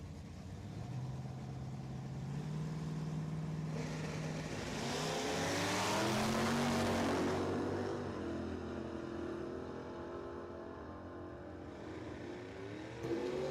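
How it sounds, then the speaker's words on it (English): Drag race cars, a Chevy Camaro against a Mopar, launch off the starting line at a dragstrip, engines rising from a rumbling idle to a loud, swelling full-throttle roar that peaks and then fades as they pull away. "Chevy versus Mopar on the starting line right now."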